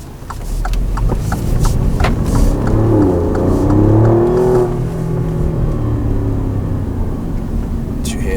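Alfa Romeo Giulia Quadrifoglio engine revving loudly and close by, a sustained deep growl that rises and falls over several seconds with mechanical clatter underneath.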